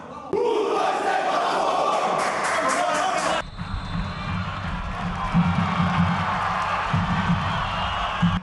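Botafogo-SP supporters in a packed stadium of more than 8,000 fans, a dense, loud roar of cheering and shouting. A short burst of brighter, higher crowd noise gives way to a sustained lower rumble with rising swells of chanting.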